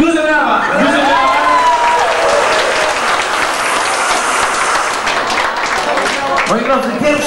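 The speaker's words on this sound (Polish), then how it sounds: "Duże brawa! Duże brawa!" A wedding crowd bursts into loud, sustained applause, clapping steadily throughout with a voice calling out over it in Polish near the start and end.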